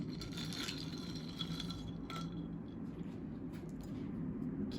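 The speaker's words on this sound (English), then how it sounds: "I like to give a little stir." Ice being stirred in a glass of Bloody Maria cocktail, a soft continuous rattle and clink of cubes against glass, close and steady with no talking.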